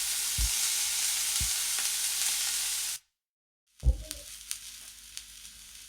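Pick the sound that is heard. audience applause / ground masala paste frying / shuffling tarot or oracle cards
ground masala paste frying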